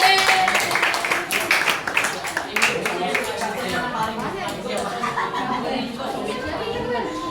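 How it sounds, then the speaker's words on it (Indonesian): Classmates in a classroom counseling simulation break into a burst of clapping mixed with lively chatter and a few laughs, the clapping loudest at the start and fading into ongoing talk. "tepuk tangan dulu buat teman-teman"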